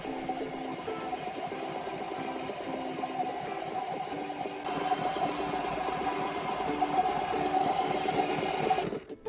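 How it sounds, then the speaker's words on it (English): A washing machine runs through its wash cycle with a steady mechanical hum and a rhythmic churning drone, continuous and fairly loud, growing a little busier partway through before stopping abruptly near the end. "Turn the washing machine on and watch it magically clean your"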